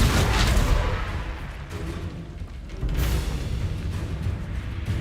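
A Confringo blasting spell from the Hogwarts Legacy video game fires off as loud, close, rumbling booms, one heavy burst at the start and another about three seconds later, each trailing into a rolling low roar.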